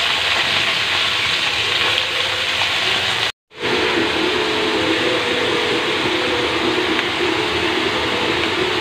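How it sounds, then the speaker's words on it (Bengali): Crabs frying in a pan give a loud, dense, steady sizzle close up. It cuts out briefly for a moment, then carries on without talk. "কাঁকড়াগুলো ভাজতে ভাজতে আমি এখানে মশলা করে নেব।"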